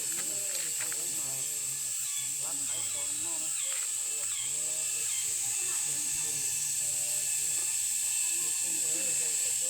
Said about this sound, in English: not the steam, but the boiling water coming out from the ground